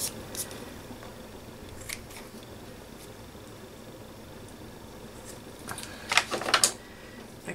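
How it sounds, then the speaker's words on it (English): Scissors snip through paper on a junk journal craft project, a few faint scattered cuts followed by a quick cluster of sharper snips near the end, with no talk. "I'll just cut those snip that off there"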